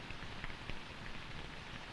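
Pouring rain, a dense, continuous hiss of drops falling on surfaces, steady and fairly close, with no voices.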